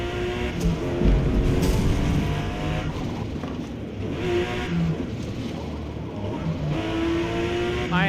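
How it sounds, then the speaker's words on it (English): Porsche 911 GT engine in a racing video game at Circuit de Barcelona, revving steadily and loudly throughout with rising and falling pitch through gear changes, heard alone without talk. "we're going with a Porsche GT"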